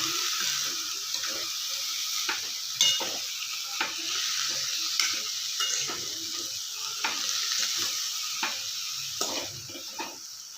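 A spatula stirs dill leaf stir-fry (sabsige soppu palya) in a pan, rhythmic scraping strokes repeating steadily over a soft continuous sizzle, close up with no talking.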